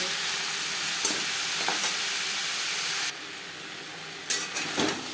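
Papaya pieces with salt and turmeric fry lightly in a pan, a steady close hiss of sizzling that drops quieter partway through, broken by a few scraping stirs.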